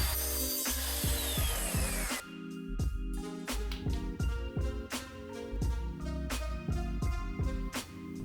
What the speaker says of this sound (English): I'm then going to make one more cut to get a piece to fit in the space I have left.